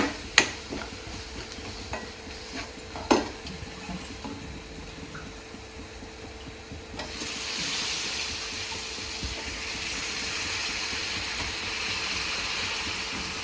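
Fish coated in turmeric masala drops into a hot pan with a couple of sharp knocks, then a steady, broad sizzle of frying sets in and holds, close and fairly loud.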